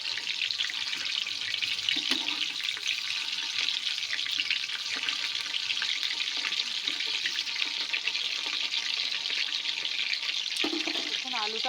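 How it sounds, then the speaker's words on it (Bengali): Potatoes frying in a pan over low gas give a steady, faint hissing sizzle throughout, with a couple of brief clinks near the middle and end. "এখন আলুটা ভাজা হচ্ছে"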